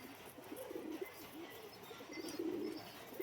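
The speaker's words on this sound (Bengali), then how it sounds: "এত ছটপটে পায়রা যে কিছু বলার নেই" A restless pigeon cooing in soft, repeated low throaty rolls, faint and fairly close, with a light background hiss and no speech.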